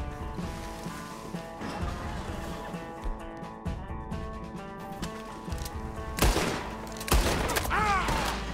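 Gunfire in the Red Dead Redemption 2 video game: two sharp, loud shots late in the passage, standing out over a steady bed of game music and ambience.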